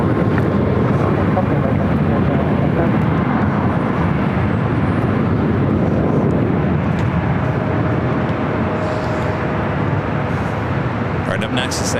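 Roar of a Lufthansa Boeing 747-8 airliner landing at LAX, a steady loud broadband rumble holding throughout with wind buffeting the microphone.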